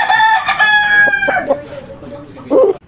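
An old-bloodline Aseel rooster crows loud and close in one long drawn-out call, rising then trailing off, followed by a short clucking burst near the end.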